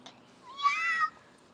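A small girl imitates a cat, giving a single short meow of under half a second, close and clear over a quiet room.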